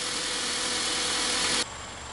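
A 2003 Honda Civic engine idles after a head gasket replacement with a steady, even hum and broadband hiss, then drops abruptly to a quieter level near the end.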